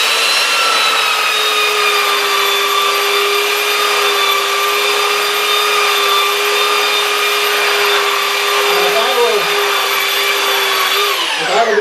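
A portable sander works steadily over a carved scrap wooden sign, a loud continuous whine with a steady hum that runs the whole time without pause before winding down at the very end.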